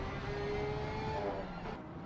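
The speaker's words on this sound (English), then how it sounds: "The sound out of that Porsche is unbelievable." A Porsche race car engine roars at high revs on a race track, a sustained whining drone that fades slightly as the car moves away.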